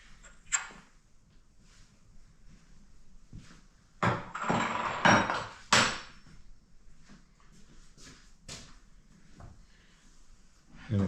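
Metal wrenches tightening the arbor nut on a stacked dado blade set mounted on a table saw, heard as a few sharp clanks and scraping bursts in the middle of an otherwise quiet stretch.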